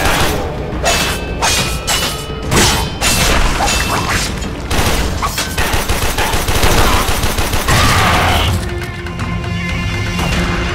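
Rapid, loud gunfire in the Warframe video game, dense automatic bursts mixed with booms and mechanical clatter, continuous and close throughout.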